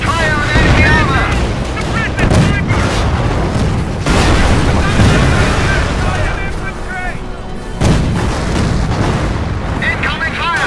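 Tank cannon fire against enemy armor in Company of Heroes Opposing Fronts, with heavy booms and blasts repeating through a dense battle din, alongside voices talking.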